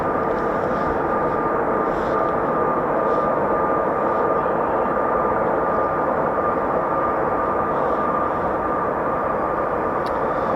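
An F-35B stealth fighter jet flies overhead, a steady, loud broadband roar with a sustained whine that holds constant throughout.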